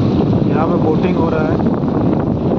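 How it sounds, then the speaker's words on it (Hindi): Strong wind buffets the microphone at a dam near Hundru Falls in Jharkhand, a loud and constant roar throughout, with someone talking over it. "और काफ़ी तेज़ हवा चल रहा है अभी"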